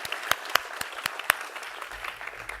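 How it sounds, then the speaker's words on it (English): Graduates and guests at a graduation ceremony applaud, a faint steady patter of clapping with a few sharper claps standing out. It stays fairly distant and lasts a couple of seconds. "So give yourselves a round of applause, please."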